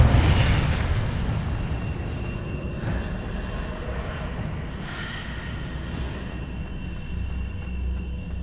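Incendio and Confringo spell blasts in the Hogwarts Legacy video game, a loud burst at the start fading into a sustained rumbling, crackling roar with a few smaller pops over the next several seconds.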